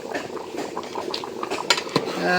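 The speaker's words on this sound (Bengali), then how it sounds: "এখন এই যে এক জালে একেবারে বলক এসে গেছে।" Vegetable khichuri cooking in a pot as it comes to a rolling boil, with bubbling liquid and a couple of metallic clinks of a spoon against the pot, close and without talking.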